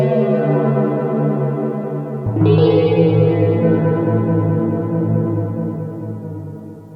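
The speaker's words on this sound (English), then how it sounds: "when the partial pops in out of nowhere, it kind of sounds like an echo." Arturia Pigments synth harmonic engine holding a sustained, buzzy harmonic tone; partway through, new upper partials abruptly pop in with an echo-like shimmer, then the layered tone continues and slowly fades.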